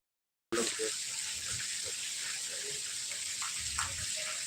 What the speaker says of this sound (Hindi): ज़्यादा पानी गिर रहा है